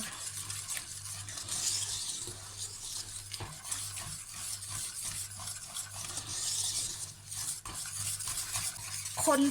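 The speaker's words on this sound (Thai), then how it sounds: "เติมนมครึ่งแก้วลงไป คนให้มันเข้ากัน" A spoon stirs thickening cream in a pan after milk is added, with repeated scraping and swishing strokes against the pan over a soft bubbling simmer, close and alone.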